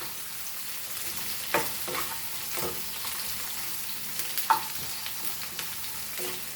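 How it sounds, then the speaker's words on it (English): Onions sauté in a pan for Goan cumin-pepper crab, a steady soft sizzle broken by several sharp scrapes and clinks of stirring, with no one talking. "I just want to saute this for a few minutes,"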